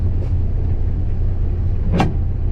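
A 1963 Pontiac Catalina on the highway gives a loud, steady low rumble of its engine and road noise, with a brief whoosh around the two-second mark and no talk.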